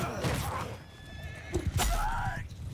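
A horse neighs in the Mount & Blade II Bannerlord video game, a short shrill whinny with a fluttering tail near the end, heard after a stretch of someone talking.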